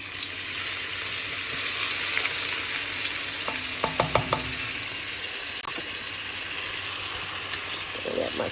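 Onion, ginger and garlic sizzling with spices in a hot pan, a steady close frying hiss with a few sharp clinks of a utensil in the middle and no talk over it.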